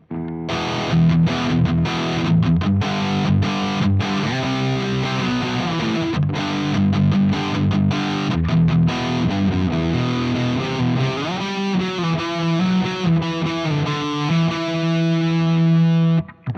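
Heavily distorted electric guitar through a Marshall JCM2000 TSL60 amp's lead channel, playing a sustained lead-style passage, loud and continuous with no talking throughout.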